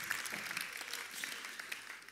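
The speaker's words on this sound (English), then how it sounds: "You're supposed to applause for that." Applause from an audience during an interview talk, faint and somewhat distant, a continuous patter of many hands with a few sharper claps standing out.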